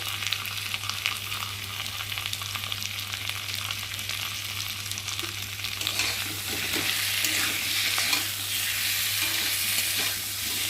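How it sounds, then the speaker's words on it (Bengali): A spice paste of ginger paste, cumin paste, chopped tomato, green chillies and chilli powder sizzles and fries in a pan for a pabda fish curry, with scraping stirs over a low steady hum and no talk. "মশলাটা ভালো করে কষিয়ে নেব, যতক্ষণ না মশলার একটা কাঁচা গন্ধ যাবে"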